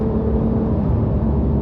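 A Porsche 911 engine drones steadily on the Zhuhai race track, with a loud, continuous hum and no talking.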